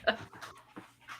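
Dogs scuffle indoors, with quick panting, huffs and short whimpering yelps in rapid succession, close and moderately loud.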